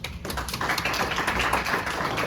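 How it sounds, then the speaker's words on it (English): Steady applause from a conference audience at COSPAR in Athens 2022, a dense wash of many hands clapping evenly for a couple of seconds with no talk. "So let's give them a round of applause."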